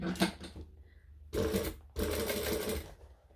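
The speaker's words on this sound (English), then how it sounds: "So I'm just going to go back and sew the side a little bit closer." A sewing machine stitches along the side of a thick handbag in short bursts, motor whirring loud and close with brief pauses between runs.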